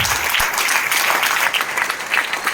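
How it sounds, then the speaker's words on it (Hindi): A crowd at a business plan presentation on a stage gives loud, dense, continuous applause from start to finish. "मैं चाहूंगा जोरदार तालियां हार्वेस्ट के बारे में"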